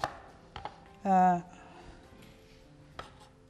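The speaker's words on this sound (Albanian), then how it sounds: "Qepën t'a presim në kubik të vegjël" A few sparse knife chops knock on a cutting board, spaced well apart, with a brief voiced sound between them.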